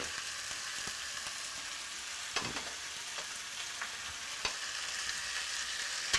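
Vegetables frying in a pan for an Armenian-style meat-and-vegetable dish, a steady soft sizzle with occasional sharp ticks and pops from stirring, moderately quiet and close, with no voices.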